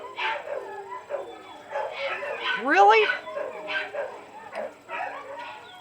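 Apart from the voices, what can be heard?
dogs barking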